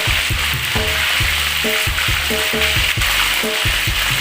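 Pomfret fish frying in hot oil for a fish-sauce fried dish, a steady loud sizzle and crackle close up, with intermittent stirring or utensil knocks throughout.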